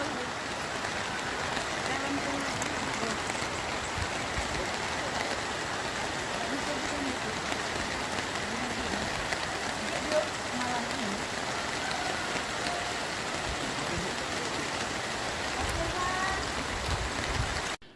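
Heavy rain pours down on the town of Lahat during a flood, a dense, unbroken roar of falling water holding steady and loud throughout.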